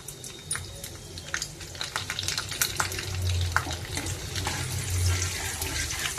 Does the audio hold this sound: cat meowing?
no